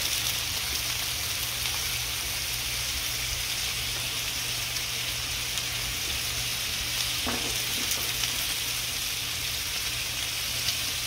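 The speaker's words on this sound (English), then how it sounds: "I'm gonna throw a little oil down because we're gonna be putting our tater tots in that oil" Tater tots frying in oil on a Blackstone griddle, giving a steady, dense, loud sizzle that carries on evenly through the whole stretch with no talking.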